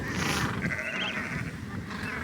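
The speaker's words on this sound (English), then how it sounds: "And of course some sheep over there walking by." Sheep bleat at Volunteer Point in the Falkland Islands, a few nasal calls rising over a steady outdoor wash of wind and distant colony noise, with no talk.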